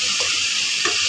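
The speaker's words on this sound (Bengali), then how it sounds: "এটাকে নাড়াচাড়া কষাই নিতে হবে। এটাকে কষাই নিচ্ছে এখন।" Meat, garlic and spices being stirred in hot oil in a pan as the masala cooks down, giving a constant loud close sizzle with a couple of faint scraping strokes.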